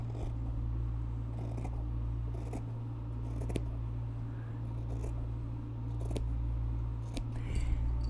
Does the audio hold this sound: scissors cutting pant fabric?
yes